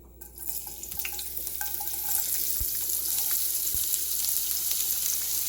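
Chopped onions sauté in a hot pan with a steady, close sizzle and hiss, punctuated by a few soft clicks and taps from stirring, with no voices.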